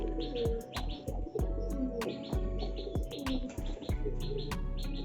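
Pigeon chicks in a loft call for their parents with soft, repeated cheeps and coos, mixed with scattered sharp clicks and taps, fairly quiet and close.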